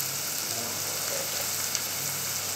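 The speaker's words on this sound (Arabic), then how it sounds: "هننزل فيها كده بصلة صغيرة مفرومة وهنفضل كده نقلب فيها" Chopped onion fries in hot oil in a pot, giving a steady, close sizzle with faint stirring scrapes throughout.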